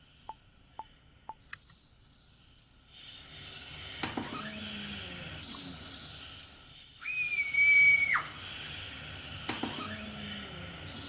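An eerie synth pad from BandLab rises in the second half, a sustained sliding tone near the middle of the mix swelling louder, after a few short clicks and faint textured noise at the start.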